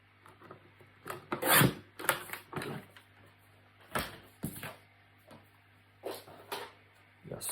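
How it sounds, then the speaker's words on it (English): A paper trimmer cuts a cardstock strip, giving several close scraping, rasping slides and soft clunks, separated by short pauses. "I'm just going to bring my trimmer in. I'm going to cut it at 1 inches."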